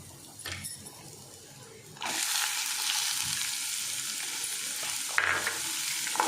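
Ginger sautéing in a pan for chutney, a loud steady sizzle that swells after the first couple of seconds, with faint stirring scrapes and a brief sharper flare near the end.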